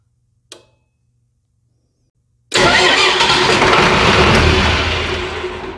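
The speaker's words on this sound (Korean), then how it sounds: "엔진 펌프도 기동을 하면" A faint click, a short pause, then a diesel engine fire pump roars to life and runs steadily, loud and close, with a broad droning rumble.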